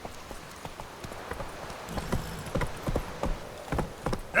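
In The Witcher 3 video game, a horse trots along with a steady, brisk clip-clop of hooves that grows slightly louder and closer, heard alone without speech.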